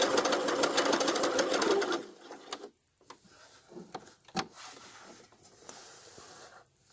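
A sewing machine runs an overcast stitch with an overcast foot in a fast, even mechanical chatter for about two seconds, then stops, followed by soft handling clicks and rustles.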